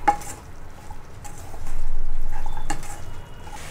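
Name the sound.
tomatoes being stirred into broad bean curry in a pan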